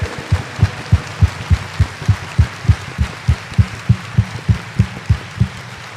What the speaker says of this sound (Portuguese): Dê uma salva de palmas para o Senhor, que tem o controle de tudo